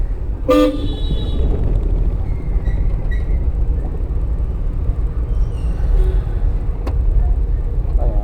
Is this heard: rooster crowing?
no